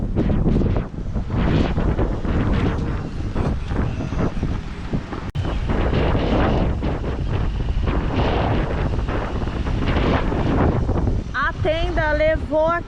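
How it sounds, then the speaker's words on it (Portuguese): Strong wind gusts buffet a beach event in Caraguatatuba, where a food-court tent is being blown about; loud, steady wind roar fills the recording while a person talks over it throughout. "agora que eu vi que o vento levou a tenda aqui da praça de alimentação do evento"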